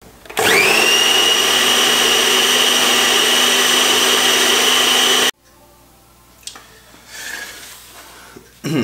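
Food processor whirring loudly and steadily as it chops abalone with onions and pepper, running for about five seconds before cutting off abruptly, followed by quieter kitchen clatter and handling sounds.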